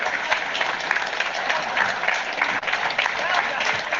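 An audience at a political rally for Pierre Poilievre, Conservative Party leader, claps in steady, dense applause throughout, a crowd-wide wash of hands without a break.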